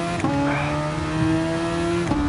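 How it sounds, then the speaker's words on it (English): A Ferrari race car engine drones close by in steady, high-pitched tones, with a brief gear-change dip in pitch near the start and another near the end as the car keeps pulling hard. "Ah, bloody Ferrari."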